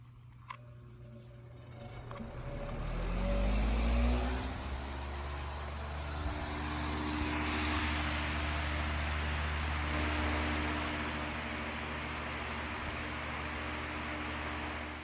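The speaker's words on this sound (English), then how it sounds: "I tried a 20-inch high-velocity fan to cover more area" A 20-inch high-velocity fan blows air in a steady, close broadband whoosh over a low motor hum, unbroken for the whole stretch, with no talking.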